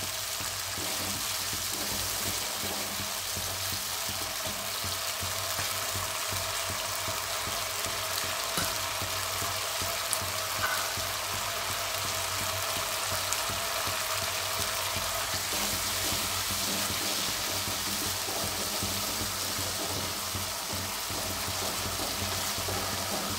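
Bay leaf and spices fry in hot oil in a pan for a traditional Bengali banana-flower dish with coconut, a continuous, even hiss of sizzling that stays loud and unbroken throughout with no talking.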